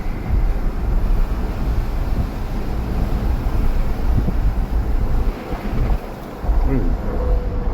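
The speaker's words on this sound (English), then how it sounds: "Actually pretty windy out here right now." Strong wind roars and buffets the microphone continuously, with loud gusts that barely let up across the whole stretch.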